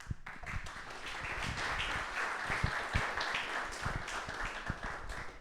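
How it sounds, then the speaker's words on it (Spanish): An audience at a tennis fitness and injury-prevention conference bursts into dense, steady applause for a speaker, a fairly distant wash of many hands clapping for several seconds. "Un aplauso."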